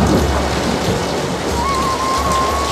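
Rain and thunder sound effect: steady, loud broadband rainfall with a deep rolling thunder rumble underneath, continuous throughout with no voices.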